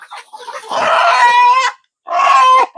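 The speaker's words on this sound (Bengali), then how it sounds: "কতগুলা দেশি মুরগি এই যে মারামারি করতেছে হ্যাঁ মুরগিগুলো খাচ্ছে" Local free-range chickens feeding in a Malaysian village give two close, loud drawn-out squawking clucks, the second after a short silence.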